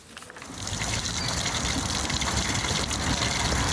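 Water pumped up from a borehole rather than the city mains pours out in a steady, loud gush that builds within the first half second and then rushes on without a break.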